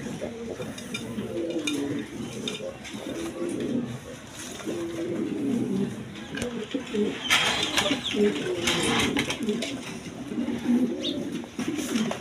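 A male chocolate-coloured pigeon coos in repeated low, rolling calls close by, with someone talking over it and light clinks in the background.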